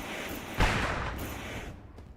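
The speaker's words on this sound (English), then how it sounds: "As the fireworks get really loud." A loud firework bursts with a deep boom over a dirt-track race night at Eldora, echoing in a long rumbling wash with a faint crackle trailing after it before fading.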